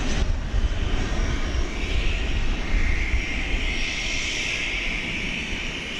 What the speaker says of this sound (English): It's an Airbus A321.